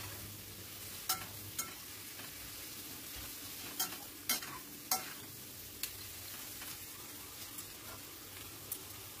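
Potatoes and chopped onion fry quietly in a pan as a spatula stirs them, with scattered sharp scraping clicks over a soft, steady sizzle.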